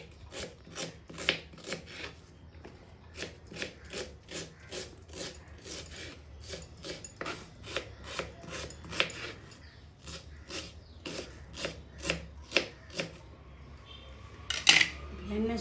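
Two onions are chopped on a cutting board with a knife, a long run of quick, regular knocks, fairly faint and close, with a brief clatter near the end.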